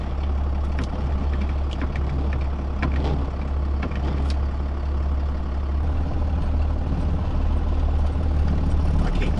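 A first-generation Cummins heavy diesel truck engine idles steadily, a constant low rumble with no voices, running throughout.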